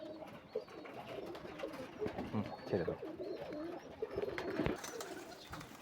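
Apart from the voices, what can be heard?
giribaz and Pakistani pigeons cooing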